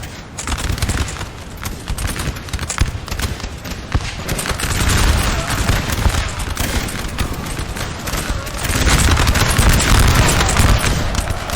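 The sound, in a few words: musket volley fire in Napoleon Total War (video game)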